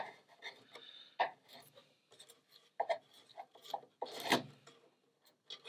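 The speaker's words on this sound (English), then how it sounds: "Now I want to trim away this tape" Packing tape being scraped and trimmed off a wooden deck hatch frame on an International 2.4mR sailboat, close scratchy rasping strokes in irregular bursts with one louder scrape near the end.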